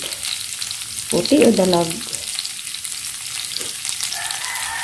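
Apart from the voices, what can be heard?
white onion frying in pan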